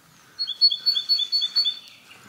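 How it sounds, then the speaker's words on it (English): A bird outdoors at an old mine and railway site chirps loudly in a quick regular series of about eight bright, clear notes, close by and alone. "Birds going off on one."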